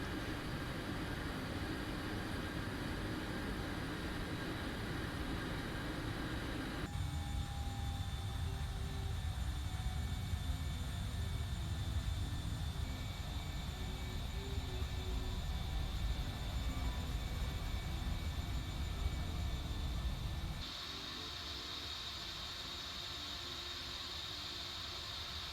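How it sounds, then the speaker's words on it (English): Jet engines of a Boeing 737 MAX 8 airliner in a flight simulator drone steadily during taxi in a cockpit, with a constant rumble and whine. The sound shifts in pitch partway through and then changes again near the end, with no talking. "Ooh, we are picking up speed already. Powerful aircraft."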